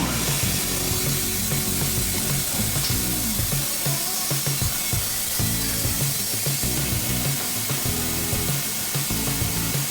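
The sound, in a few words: Baker saw machine cutting boards for pallets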